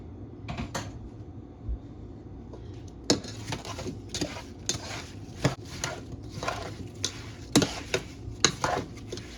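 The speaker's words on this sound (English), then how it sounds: "I'm just going to mix this until the butter melts and these apples cook down just a little bit." Apples and butter are stirred in a pan over high heat, a spoon tapping and scraping the pan in irregular, clicky strokes, close but fairly quiet.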